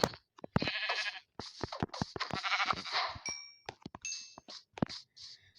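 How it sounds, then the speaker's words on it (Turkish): Sheep in Minecraft bleat in repeated short, nasal cries, close and clear, interspersed with a few small chiming game sounds and no talk. "Aha bir de koyun var burada, gidip onu öldürək."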